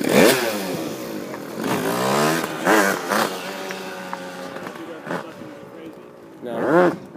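Vehicle engine revs in bursts after the clutch goes in and first gear is engaged, rising and falling whines with some clatter, mixed with people talking nearby.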